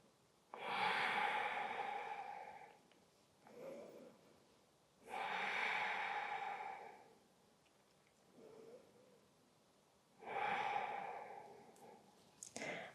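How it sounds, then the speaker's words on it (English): Slow, deep breaths during a yoga forward fold in a beginner full-body flow: three long, airy exhalations close to the microphone, separated by quieter inhales and near silence. "Wherever you are in your fold, take 3 more breaths."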